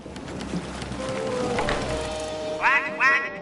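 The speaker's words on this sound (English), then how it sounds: "Quack, quack. I hear ya." A duck in the video game Sly 3: Honor Among Thieves gives two short, nasal quacks near the end, heard over a steady rain-like background hiss.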